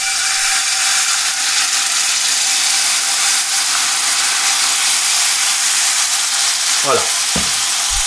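Lace tuile batter sizzling steadily in a hot non-stick frying pan, a loud, even, close hiss that holds without a break, and a brief word spoken near the end.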